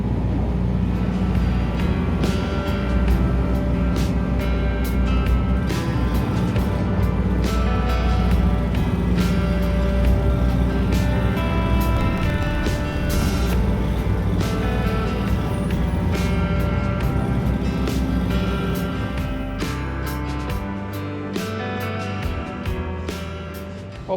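A sailboat's motor drones steadily while motor sailing at about 5.5 knots in light wind, a continuous low engine hum with a constant pitch and faint ticking, close and alone with no talk.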